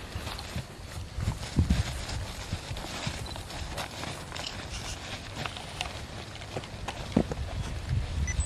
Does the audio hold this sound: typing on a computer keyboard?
no